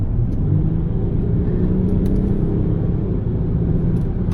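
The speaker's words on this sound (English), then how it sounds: "Now I'm going to give it kick down and let's just feel the power." A Range Rover Sport Autobiography engine pulls hard under kick-down, a steady low rumble and whir of the engine heard from inside the cabin, smooth and continuous with no one speaking.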